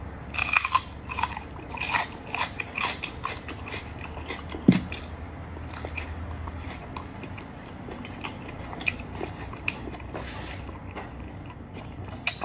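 Someone chewing raw onion close to the microphone, with irregular crisp crunches and wet biting clicks scattered throughout and no talking.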